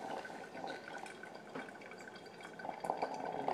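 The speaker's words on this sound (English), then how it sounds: "And there's the water dripping." Inside a Bonavita BV1800TH coffeemaker, water drips through a multi-hole showerhead with quiet, irregular pattering and trickling, close up and fairly faint, with no speech.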